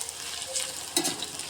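Onions frying in oil inside a pressure cooker for biryani, a steady close sizzle with a brief louder crackling burst near the end, no voices.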